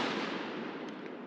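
A faux Jungle Carbine rifle fires, leaving a loud, broad burst of noise that rings out and slowly fades over about a second.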